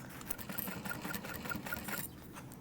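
A sewing machine stitching vinyl, a quiet rapid mechanical whir with a regular ticking needle rhythm that runs for about two seconds, then stops.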